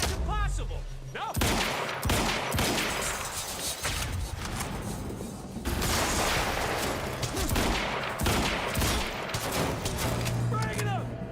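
Heavy gunfire in the video game Quantum Break: loud, rapid bursts and volleys from several guns crackle and thump through the whole stretch, while voices shout in between.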